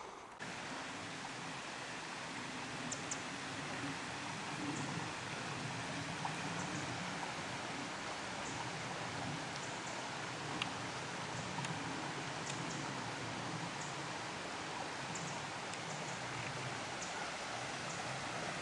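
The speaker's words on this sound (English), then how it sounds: "It's a nice little creek here." A small forest creek flowing beneath a little bridge, heard as a faint, steady broadband wash of running water with no pauses and no voices.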